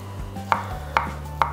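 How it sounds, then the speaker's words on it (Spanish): A knife chopping surimi finely on a board: three crisp, evenly spaced chops about half a second apart, close and clear over a faint low hum. "Con el surimi hacemos lo mismo, lo picamos bien pequeñito."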